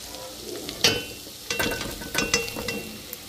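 Mushrooms frying in a skillet with butter, a steady sizzle broken by several sharp scraping or stirring clatters close by.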